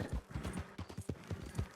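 Horse hooves clip-clop at a steady trotting rhythm in Red Dead Redemption 2, a continuous close run of hoofbeats, fairly faint in the mix.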